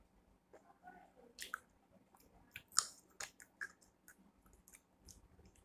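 Jelly sprinkled with sugar being chewed up close, soft squishy bites and faint clicks coming in scattered bursts over a quiet background, with no talking.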